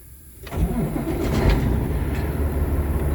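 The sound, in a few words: truck engine starting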